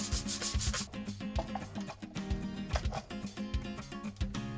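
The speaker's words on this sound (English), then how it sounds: "here I'm just sanding this bit down" A small wooden piece for a LEGO Death Star serving board is sanded by hand, making a fairly quiet, rhythmic series of back-and-forth rubbing strokes with no talking.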